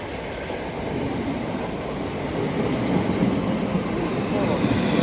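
Train 46608 pulls into Belvedere station, its steady, loud rumble and wheel noise slowly building as it draws nearer.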